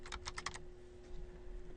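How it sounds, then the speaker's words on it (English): Quick keystrokes on a computer keyboard, about six close clicks in a short burst while a word is typed into a website editor, followed by quiet room hum. "I can do so by typing the word hide"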